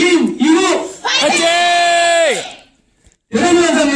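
A cinema audience at a movie stage greeting shouts a loud cheer together in unison, two sustained collective yells separated by a brief pause, then a third burst begins.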